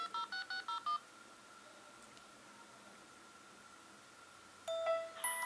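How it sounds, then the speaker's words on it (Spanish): Six quick touch-tone dialing beeps from a mobile phone being tested with a new SIM card, crisp and close, followed by a stretch of faint line hiss and then a brief electronic call-connection tone near the end. "Voy a marcar ese chip y checar que entre bien la llamada y que conteste bien"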